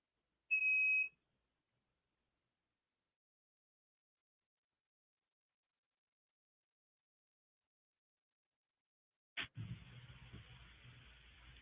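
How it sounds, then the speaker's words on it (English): A machine gives a single short electronic beep near the start, followed by a long stretch of near silence and then faint background noise. "Sorry, my machine was beeping."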